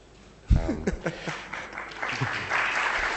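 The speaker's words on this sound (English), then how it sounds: "This is probably the first time someone comes to Beirut and just gets applause." Applause swells from a gaming panel audience in Beirut, starting under a man's speech and building into a steady wash of clapping that carries through to the end.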